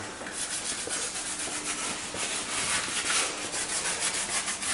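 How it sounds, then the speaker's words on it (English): Continuous rough rubbing and scratching of sandpaper worked back and forth on the bogie wheels of a model locomotive, steady and close, with no talking. "work in progress sanding down the bogie wheels"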